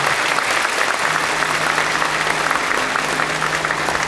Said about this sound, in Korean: 이제 큰 박수로 축하해 주시기 바랍니다